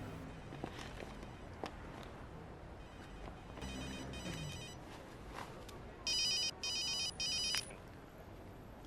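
A telephone rings in short electronic bursts, three rings close together after some quiet footsteps and faint shuffling.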